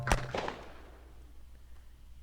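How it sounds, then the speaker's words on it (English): A single dry gunshot crack is used as a sound effect in an audio drama. It is sharp and near, with a quick second snap, and fades into quiet room tone. "there was a dry crack of a gunshot."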